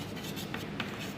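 A pen or chalk writes on a board during a maths lesson, giving a short burst of close scratchy strokes with small taps.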